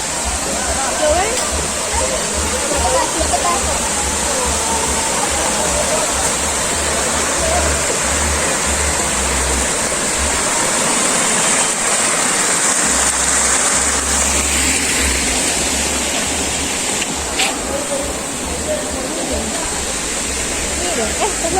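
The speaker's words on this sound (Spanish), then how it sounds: "Suena por ahí un río." A river in Venezuela rushes past nearby, a loud, steady broadband roar of flowing water that continues unbroken, with some talking faintly mixed in.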